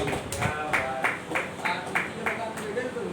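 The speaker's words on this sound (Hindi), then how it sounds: "एक बार जोरदार तालियां हरी जी के लिए" Audience applause for poet Dr. Hari Prakash Agrawal 'Hari' at a poetry recital, heard as a steady patter of clapping with rhythmic louder claps about every half second over a busy hall background.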